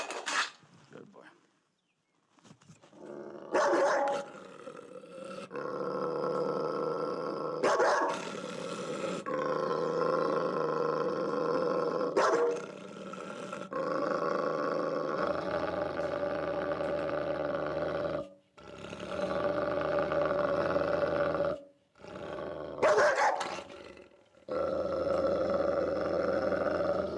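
A Labrador dog growls and roars in long, loud, sustained bursts broken by short pauses, close by in a kennel setting, with a voice speaking briefly between the outbursts.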